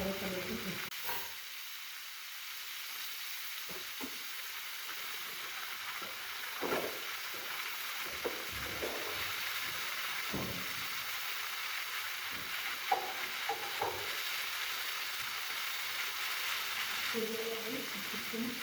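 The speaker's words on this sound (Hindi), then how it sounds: "चिकन फ्राई हो चुकी है और इस पर अच्छा सा कलर आ चुका है" Chicken tikka frying in a pan, a continuous close sizzle and hiss with occasional stirring clinks and scrapes, and a voice speaking briefly near the start.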